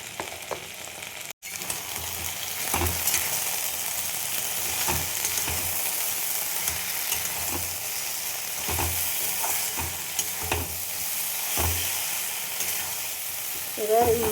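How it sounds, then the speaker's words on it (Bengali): Masala of red chilli powder, salt and turmeric sizzles steadily in a pan with okra, broken by regular scraping strokes of a spatula as it is stirred, close and fairly loud with no voices. "এবার এই মশলাটা আমি কষিয়ে নেব ভিন্ডির সাথেই।"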